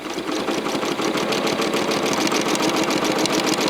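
A sewing machine runs continuously during free-motion quilting of feather patterns, a close, rapid needle chatter with an even mechanical rhythm that holds steady throughout without any voices.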